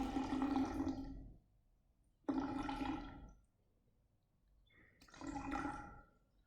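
Water is poured slowly into a measuring cylinder for a school density experiment, three separate bursts of splashing, gurgling liquid with short quiet gaps between them, close and fairly soft.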